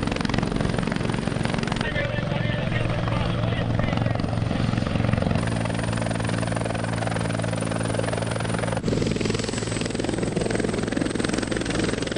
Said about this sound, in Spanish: vamos a proceder al corte para que aterrice el helicóptero.